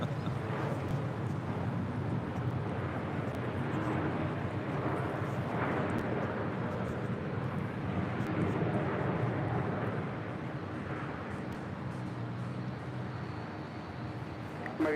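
A Delta Airlines Boeing 737-900ER departing LAX for Nashville roars steadily as a broad, continuous jet rumble, loud and sustained with a slight easing toward the end.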